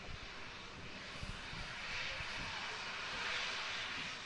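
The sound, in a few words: Jet2 airliner engines at Manchester Airport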